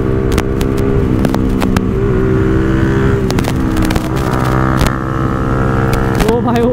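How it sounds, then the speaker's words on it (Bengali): A motorcycle with a full exhaust revs hard as it makes a close, loud fly-by on the road, its sustained, layered engine roar filling the whole stretch, with sharp clicks and rattles cutting through. "ও ভাই ও তো আমার গাড়ি পেয়ে ভাই ফুল এক্সস্টের মজা নিচ্ছে"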